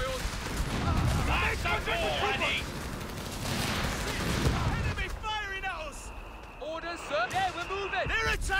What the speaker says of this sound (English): Enemy firing at us!